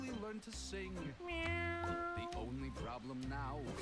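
Cats meow in the Mewgenics video game, a run of loud, close, pitched calls that rise and fall and overlap one another, filling the whole stretch with barely a pause.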